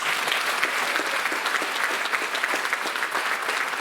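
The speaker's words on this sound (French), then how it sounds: "Des applaudissements s'il vous plaît pour Manon." A theatre audience applauds steadily and loudly for the technical crew member, dense clapping sustained throughout with no voices over it.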